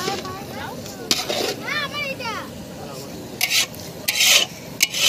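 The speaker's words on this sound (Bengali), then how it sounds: "মাংস কষা দারুণ চলছে" Meat being stirred and sautéed in a pan at an outdoor family picnic gives short scraping, rasping strokes, with chatter and children's voices around it.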